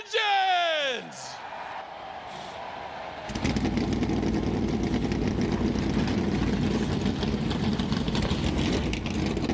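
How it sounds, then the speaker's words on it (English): Several NASCAR Cup Series race car engines fire up at Daytona, a sudden loud roar that settles into a steady, rumbling idle, following a brief sliding vocal-like tone at the start. "Drivers, start your engines!"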